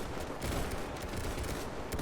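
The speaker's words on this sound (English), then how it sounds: "they're shooting people down from the building" Steady crackle of rifle and machine-gun fire from soldiers in a Men of War WW1 mod battle in 1916 Dublin, rapid overlapping shots sounding moderately distant and continuous.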